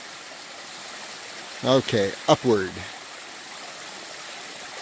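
A small mountain creek on a wind-damaged trail in the Mount Charleston wilderness of Nevada's Spring Mountains flows in a steady, soft broadband rush, with someone speaking briefly over it.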